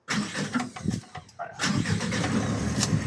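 Car engine cranking and catching during a driving lesson: a short starter whirr, a brief pause, then the engine firing up and settling into a steady idle close by.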